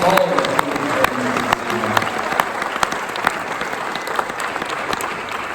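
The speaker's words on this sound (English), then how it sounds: "How about another round of applause" Sustained applause from an audience at a celebration event honoring a jazz team, dense steady clapping throughout with a few sharper claps standing out, and a voice faintly underneath.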